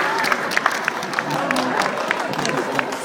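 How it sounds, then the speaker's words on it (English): Audience clapping after a haka performance, a full burst of dense applause from a room of people with scattered sharper claps, heard together with a voice talking over it. "Give yourselves a round of applause."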